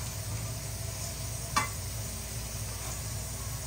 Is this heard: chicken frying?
yes